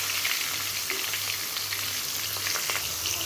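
Large pieces of a 12-kilo fish, cut like chunks of meat, fry in smoking-hot oil: a steady, dense close-up sizzle with crackling spatter runs throughout, with no voices.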